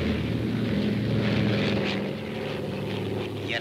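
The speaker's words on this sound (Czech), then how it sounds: "Na pražském letišti přistává mimořádné letadlo." Special aircraft landing at Prague airport in November 1954, a steady loud propeller engine drone with a slight fade partway through, heard in an old archival newsreel.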